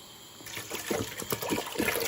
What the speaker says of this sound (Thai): หมุนขวดครับน้ำมันจะได้ออกเร็วๆหน่อย